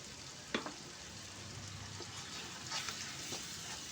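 Freshly ground mustard paste being stirred into frying ginger-garlic spices in a pan for a mustard rohu fish dish: a faint, steady sizzle with a few quiet spatula scrapes, no speech.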